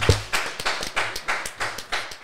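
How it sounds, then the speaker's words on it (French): Brief applause for Jérôme, a trail-running guest, at the start of a French podcast: a few hands clap in a steady, close rhythm of about ten claps, with a thump at the start. "vais lui faire un, tonnerre d'applaudissements euh, pour, Jérôme"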